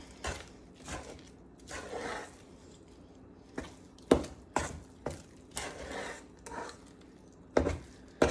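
Pumpkin muffin batter stirred in a bowl, giving soft wet squishing and scraping strokes with occasional sharper clicks of the utensil against the bowl, close and quiet, irregular in rhythm.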